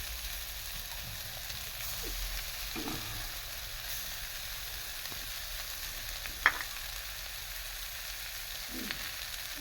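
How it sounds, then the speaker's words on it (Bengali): Dried fish fries in oil in a pan, a soft, steady sizzle with occasional stirring clicks, close but fairly quiet. "ভালো করে লাল লাল করে ভেজে নেওয়া হচ্ছে"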